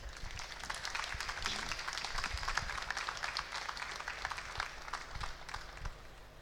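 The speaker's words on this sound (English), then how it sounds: "If we could have a round of applause for our judges." A room full of people applauds the judges at an architecture student project presentation for the Nottingham Trent Basin development, a steady dense wash of clapping lasting throughout with a few louder claps standing out.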